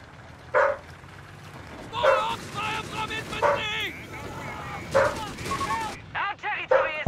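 A Belgian Malinois barks sharply indoors at someone outside a window, giving about eight loud, separate barks in uneven bursts over a low background.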